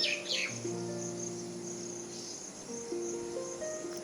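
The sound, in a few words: various birds chirping in the early morning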